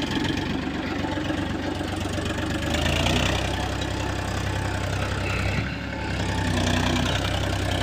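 Powertrac Euro 50 Next diesel tractor engine working steadily under load while pulling an MB plough through a field, a continuous near rumble that swells slightly at times with no talk over it.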